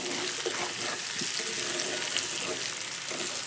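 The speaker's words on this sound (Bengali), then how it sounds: "এর মধ্যে গরম জল অ্যাড করে দেবো অল্প করেই দিয়েছি" Hot water added to a simmering potato and egg curry, producing a continuous close hiss and bubbling sizzle that stays even throughout without talk.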